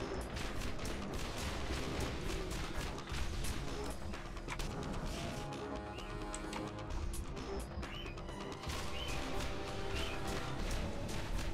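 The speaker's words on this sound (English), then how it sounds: "I'm gonna launch every rocket I've got at him" Rockets fired in rapid succession in Borderlands 1 at a huge monster, a rattling series of sharp launches and blasts, fairly quiet and continuous.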